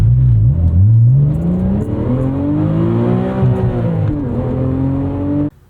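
A 2012 Porsche 987.2 Cayman R pulls hard under acceleration, its engine note climbing steadily through the revs with a brief shift dip before rising again, loud and close, then cutting off abruptly.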